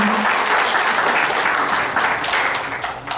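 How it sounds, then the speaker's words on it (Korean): Audience at a Korean book launch applauding, a dense wash of many hands clapping together, loud and full before tapering off at the end. "우리 최한실님께 다시 한 번 더 큰 손뼉 부탁드리겠습니다"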